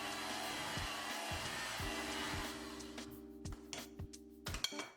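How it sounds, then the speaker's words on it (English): An electric mixer on low speed blending snickerdoodle cookie dough with dry ingredients, a steady motor hum with rhythmic knocks of the beaters against the bowl, cutting out near the end into a few clinks. "mix on a low speed until just combined"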